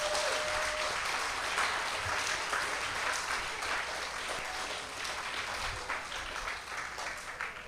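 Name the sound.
applause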